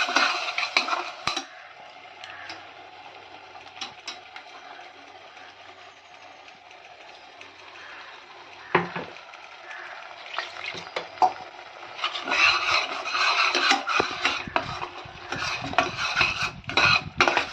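Spoon stirring tomato paste masala in a sizzling pan for a restaurant-style chicken kulambu, with scraping and frying hiss that grows busier and louder toward the end, heard close.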